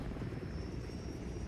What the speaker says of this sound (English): A helicopter thing, yeah.